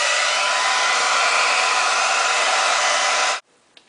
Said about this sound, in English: then use my blow dryer to give it heat